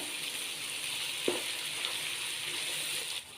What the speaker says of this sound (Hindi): 2 मिनट हो गए हम इनको फ्राई करते हुए।